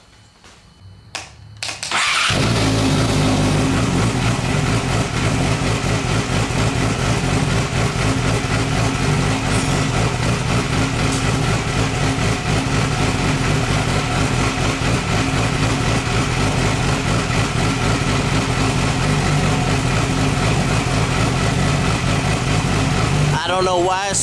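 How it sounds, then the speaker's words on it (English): A car engine turns over and settles into a loud, steady idle with an uneven, sputtering note right after a coolant change, running continuously for most of the stretch before cutting off near the end. "I don't know why it's sputtering like that."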